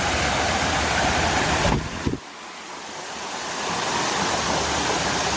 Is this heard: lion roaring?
no